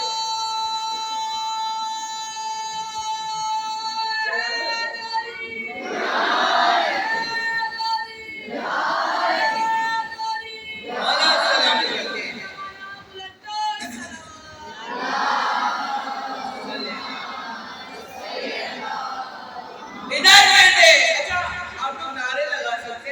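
Crowd at a Muharram majlis chanting slogans, several loud bursts of massed voices answering in rhythmic waves between pauses, with a lead voice calling out between them.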